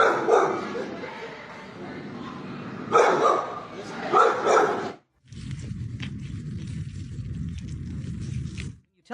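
A dog barks in several loud, close bursts, with some yipping over a voice, before the sound cuts to steadier, muffled household noise.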